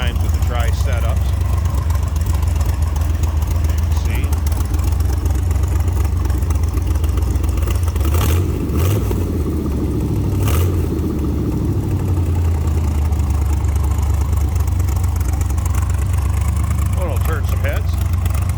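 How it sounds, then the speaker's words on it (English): A 1923 Ford Model T T-Bucket hot rod with a triple-carburetor setup idles with a deep, steady rumble, briefly blipped higher midway, while someone speaks over the running engine. "Get an idea how it sounds. And I believe it's running off the center carb."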